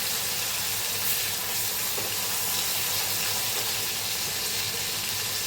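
Green masala paste frying in hot oil, a steady close sizzle with a constant hissing texture throughout, no voices.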